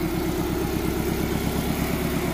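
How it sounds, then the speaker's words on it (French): A Peugeot 405 Turbo 16 idles with a steady, pulsing mechanical beat, the rhythmic throb even and moderately quiet with no talk over it. "Le bruit symptomatique du T16"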